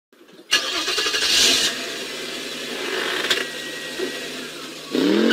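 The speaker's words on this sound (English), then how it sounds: "Car." A car engine starting up and idling, a sudden loud catch followed by a steady running rumble with a brief rise in revs near the end.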